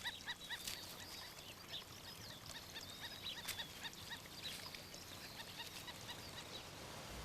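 Waterfowl such as geese or ducks in flooded taro paddies, honking and quacking calls scattered throughout over a steady wash of background noise, moderately distant and without talk.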